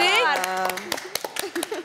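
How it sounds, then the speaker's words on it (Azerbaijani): Scattered handclaps from a game-show audience, sharp and uneven, break through after a voice carrying tonal sound at the start. The claps grow sparser toward the end, and talk continues underneath. "Alqışlayaq Rəvanı, təbrik edirik."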